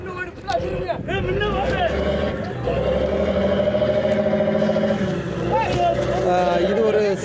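A mechanized fishing boat engine on a sea crossing to Katchatheevu island drones steadily and loudly throughout, with voices talking over the constant mechanical hum.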